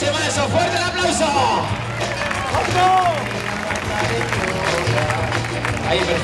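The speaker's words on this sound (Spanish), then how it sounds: "¡Fuerte el aplauso!" A crowd applauds at a bullfight in Pedrola, with a steady wash of clapping and murmur in the background while someone talks over it throughout.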